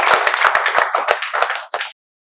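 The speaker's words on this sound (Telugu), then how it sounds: "చప్పట్లతో స్వాగతాన్ని తెలియజేస్తాం." A small group claps in welcome at a spoken English class, a short burst of close, sharp handclaps that thins out and stops abruptly.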